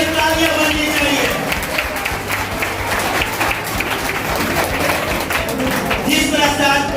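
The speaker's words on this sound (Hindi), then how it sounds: "संतोष सर, जबरदस्त तालियां होनी चाहिए, जबरदस्त तालियां होनी चाहिए।" An audience at a school award ceremony applauding, dense sustained clapping from a crowd that continues at steady loudness throughout, with voices mixed into it.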